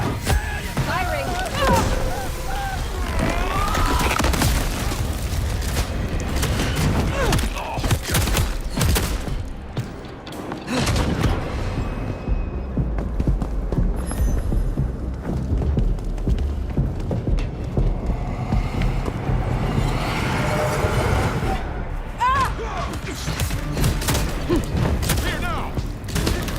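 Dense, loud gunfire bursts in Vampire: The Masquerade – Bloodlines 2 on PS5 Pro, with rapid volleys and thuds filling most of the stretch, briefly easing midway, while voices shout over the shooting.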